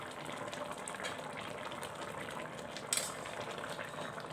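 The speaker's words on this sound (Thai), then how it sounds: "เฮาก็ใส่น้ำมันส้มลงไปเลยครับ" Sour liquid poured into a chicken and bamboo shoot curry, giving a steady bubbling, sizzling wash with a brief louder splash near the end, no voices.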